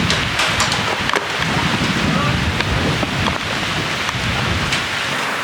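Pouring rain drums steadily at an outdoor barbecue with a smoker going, a dense hiss throughout, scattered sharp drips and taps, and low rumbles that suggest distant thunder.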